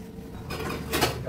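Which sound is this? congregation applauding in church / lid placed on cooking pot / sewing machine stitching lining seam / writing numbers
lid placed on cooking pot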